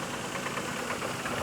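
A Daihatsu engine idles roughly with a broken vacuum pipe and a damaged idle control valve. It makes a steady, close, loud mechanical rumble with an uneven, labouring pulse and no voices.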